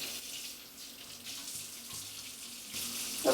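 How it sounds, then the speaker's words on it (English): Tap water runs steadily into a kitchen sink as potatoes for a gluten-free potato salad are rinsed of starch, a continuous close hiss with a brief clatter at the end. "drain one more time just to get the starch and stuff off"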